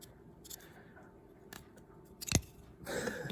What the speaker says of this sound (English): Cuts a little wedge out of the end of the cigar.